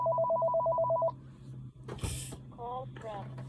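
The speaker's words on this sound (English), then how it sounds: "so excuse the phone ringing." A telephone rings with a steady electronic trill that cuts off after about a second, followed by a short burst of noise and a few fainter chirps, over a low background hum indoors.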